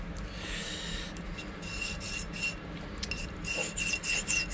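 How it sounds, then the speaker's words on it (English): A blunt multi-tool blade being sharpened, with quiet, irregular rasping strokes of metal rubbing against a sharpening surface, fairly close and soft. "I'll have to sharpen my little multi-tool"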